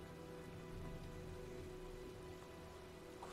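Steady rain falls continuously in the Heavy Rain video game, a soft even hiss of drops on surfaces with no voices over it.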